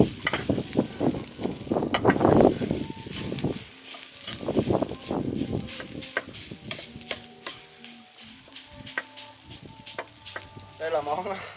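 Egg fried rice frying and being stirred in a pan, with steady sizzling and a few louder bursts of scraping and stirring, close up and with no talking.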